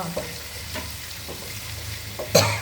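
Turmeric fries in hot oil as the tempering for mango pulihora, a low continuous sizzle with a few light clinks, then a sharper spatter near the end, close and with no voices.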